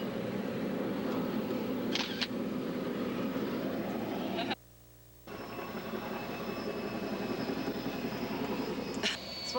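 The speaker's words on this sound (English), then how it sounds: "we have a search and rescue helicopter dragging something" A search and rescue helicopter drones steadily in the distance near an airport, a continuous mechanical roar that drops out briefly midway, with faint clicks over the top.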